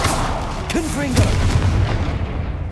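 Confringo, a fiery blasting spell in the game Hogwarts Legacy, goes off as a few sharp booming cracks followed by a low rolling rumble. It is loud and close, with a brief tonal vocal sound mixed in.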